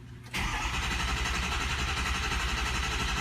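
A car engine cranks steadily during a cold start, with the starter motor's continuous, loud, rhythmic churning running close up without catching.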